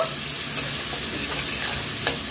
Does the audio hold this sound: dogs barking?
no